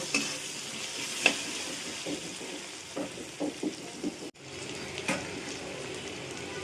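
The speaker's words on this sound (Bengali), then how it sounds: "এবার একটু ভাজা ভাজা করে নেব" Potato pieces fry quietly in oil with salt and turmeric, a soft steady sizzle broken by several scraping stirs of a spatula in the pan, close and fairly faint with no voices.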